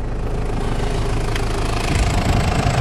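A 3.0 liter Toyota diesel engine in a 1996 HiAce van idles with the hood lifted, a steady loud low rumble with knocking vibration that swells slightly toward the end.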